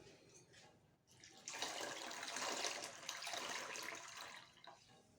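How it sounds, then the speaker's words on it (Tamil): Water splashes and gushes steadily for several seconds, poured close by over strained almonds after a brief quiet start. "இது மேலே கொஞ்சம் பச்சை தண்ணி ஊற்றிக்கங்க."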